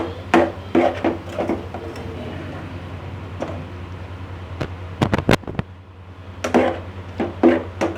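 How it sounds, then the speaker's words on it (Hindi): A spoon or spatula stirs brinjal pieces into fried masala in a pan, making a run of scraping, clacking knocks with a few sharp metallic taps over a low steady hum. "तो अब मैं इसमें डाल दूँगी ये बैंगन। इनको अच्छी तरह से मिक्स करेंगे।"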